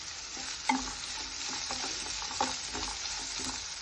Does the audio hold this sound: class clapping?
no